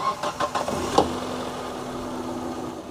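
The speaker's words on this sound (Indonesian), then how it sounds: "Saya akan coba kerking test berapa volt dia turun ketika di start engine." A 2006 Hyundai Trajet GL8 CVVT engine starting: a few quick cranking pulses, then the engine catches and settles into a steady low idle.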